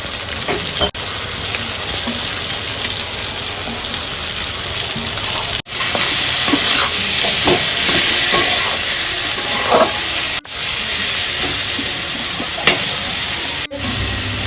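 Slit green chillies and chopped tomato sizzle and fry in a pan with a steady, fairly loud hiss, broken by a few brief dropouts and light stirring clicks, with no talking.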